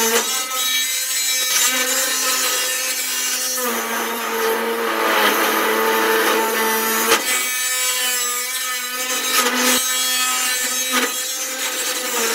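Power saw cutting through the panel side of a Luton van to open a window hole from the outside, a steady loud buzzing cut running continuously with brief dips and restarts.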